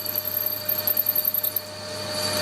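A 10mm drill grinds steadily into metal while boring a pulley, with a high, slightly squealing whine and pulsing cutting noise, then settles into a smoother hum.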